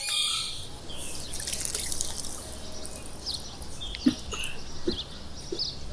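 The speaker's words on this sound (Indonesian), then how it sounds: "ketika Bawang Putih mencuci di sungai" River water flows in a steady rush while clothes are washed, with scattered drips and small splashes and a faint bird call, no speech.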